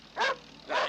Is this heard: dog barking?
yes